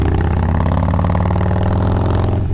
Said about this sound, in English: I'll show you guys a little bit of this bike carrying itself on the highway.